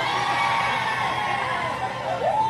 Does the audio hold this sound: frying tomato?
no